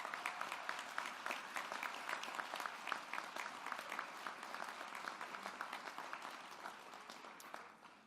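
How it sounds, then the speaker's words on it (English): An audience applauds award winners at a ceremony, a sustained round of dense clapping from many hands, fairly distant and even, fading slightly toward the end. "Let's give a round of applause for all of the Mason Award winners."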